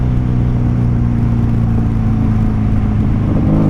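A 1995 Honda Magna VF750C cruiser motorcycle engine runs steadily at close range, a loud continuous droning hum with a slight rise in revs near the end, with no talking over it.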